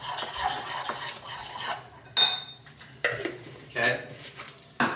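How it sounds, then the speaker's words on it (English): A spoon stirs and mashes almond butter in a bowl, giving close scraping clatters and sharp clinks of metal on the bowl in uneven bursts. "And then we're gonna just like stir it around."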